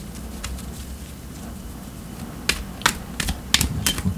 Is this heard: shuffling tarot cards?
yes